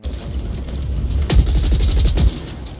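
Automatic rifle fire from the base assault rifle in the video game The Ascent, a loud, dense burst of rapid shots in two clusters with sharp impacts, close and continuous over nearly three seconds with no talk.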